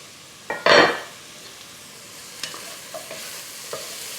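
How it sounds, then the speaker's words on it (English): Onions sweating in a pot for autumn soup, a quiet low sizzle broken by one brief clattering scrape of a utensil or lid, followed by a few faint taps and small pops. "cover the pot, and let the onions sweat until they are tender"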